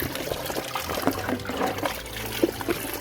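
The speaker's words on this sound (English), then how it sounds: "Let me wash down this pan real quick." Water splashes and trickles continuously as clay is washed out of a gold pan with placer gravel, close and steady with small gurgles and no talk.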